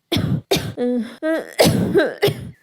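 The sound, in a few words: cough of Kuku the baby bird in a cartoon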